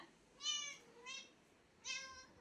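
A pet cat meows three times for a snack, each cry drawn out and fairly close, with short quiet gaps between them and no talking.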